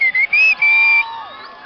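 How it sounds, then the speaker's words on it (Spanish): At a Mexican ranchero shout contest, a crowd cheers with loud, piercing whistles in short bursts, then one sustained whistle, with background cheering fading as the clip ends. "¡El aplauso para el gordo!"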